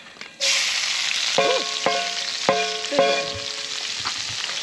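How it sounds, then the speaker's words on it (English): Breakfast potatoes fry in a pan over an open wood campfire, a steady close sizzle with a few sharp clinks of a utensil striking the pan partway through. "The thing about cooking over a campfire, and I'm talking about actual wood campfire, not coals"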